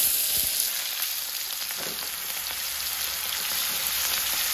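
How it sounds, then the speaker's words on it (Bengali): Chopped onions fry in oil in a kadai, giving a close, steady crackling sizzle with a few brief stirring sounds. "পেঁয়াজ কুচিগুলো কড়ার মধ্যে দিয়ে দিলাম, একটু লাল লাল করে ভেজে নেবো ভিতরে"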